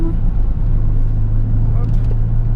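A 1992 Nissan Skyline R32 GT-R held in third gear at the Suzuka circuit: a loud, steady engine drone close to the listener, keeping a constant pitch for the whole stretch.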